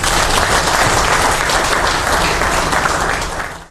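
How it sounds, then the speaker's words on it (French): An audience applauds Congolese customs officers at an official gathering, a dense, loud, continuous wash of clapping that holds steady for several seconds before tapering off at the end. "Je vous demande de les applaudir."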